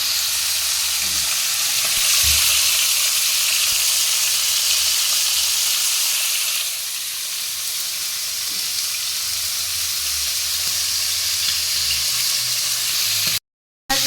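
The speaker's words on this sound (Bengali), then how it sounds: "এটা মাছগুলো ভাজা হচ্ছে" Fish frying in an iron wok gives a steady, loud sizzle that fills the whole clip, with faint scraping stirs and a brief drop-out near the end.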